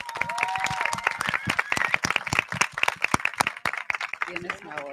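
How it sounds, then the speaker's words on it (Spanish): Audience clapping for staff at the close of a Spanish-language talk on law and space; a scatter of distinct, fairly sparse claps from a modest crowd with voices talking over them. "darles un aplauso a todo mi staff"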